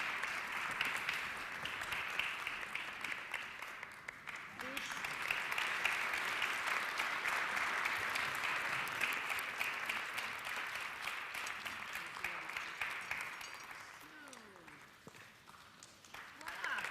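An audience at the Eurovision Song Contest allocation draw claps in a sustained wash that swells, holds, then thins near the end before rising again, a little speech mixed in faintly.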